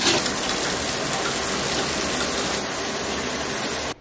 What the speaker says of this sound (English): I need to go take a shower, okay?